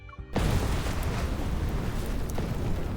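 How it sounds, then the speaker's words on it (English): A three-story building explodes in an animated game event scene, a sudden deep blast after a brief quiet, followed by a sustained loud rumbling roar of collapse and fire. "The explosion roared to life."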